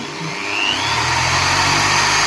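An electric drill runs on power from a 48-volt inverter, a steady close whine that builds in the first half second and then holds at an even, loud pitch with no voices.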